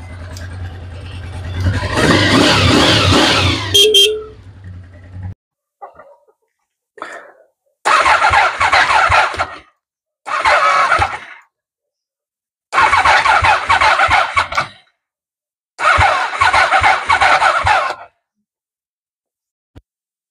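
A Honda VFR 750 V4 motorcycle that has sat unused for five years, with a flat battery and hard starting, catches and runs roughly for a few seconds. Several separate loud cranking bursts of one to two seconds follow with short silences between.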